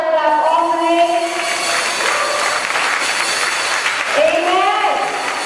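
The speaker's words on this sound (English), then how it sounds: "Give him a louder clap offering." A church congregation at a high praise and worship service claps as a clap offering, a broad steady wash of applause under sustained singing or musical voices.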